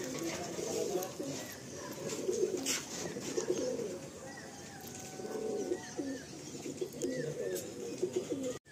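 A male Andhra/Madrasi pigeon at a loft gives repeated low, throaty coos in close rhythmic bursts. Faint chirps and soft background voices sit beneath it.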